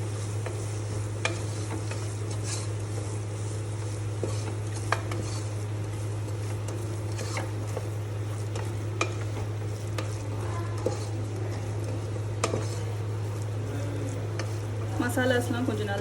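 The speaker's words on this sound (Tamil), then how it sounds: "இப்போ என்ன பண்ண போகிறோம்னா நல்லா இதை சாட்டே பண்ண போகிறோம்." Masala spices for chicken biryani sautéing in a pan over medium-high flame: a steady close sizzle with frequent spoon stirs and scrapes against metal, under a constant low hum, while someone talks.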